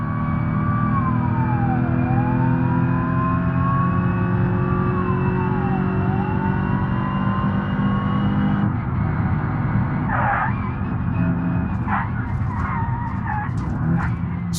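Car engine in the BeamNG driving game pulling hard and climbing in pitch through repeated gear shifts, loud and close, with tyre noise and a few sharp mechanical transients near the end.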